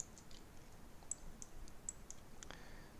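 Faint, sparse computer mouse clicks during CAD drafting come at irregular intervals over a quiet background hiss.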